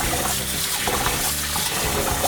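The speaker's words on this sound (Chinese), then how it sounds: "咱洗咧用過濾水擱甲洗一下" Rice is rinsed with filtered water while preparing Taiwanese vegetable zongzi: a close, steady rush of water in a bowl, continuous and fairly loud throughout.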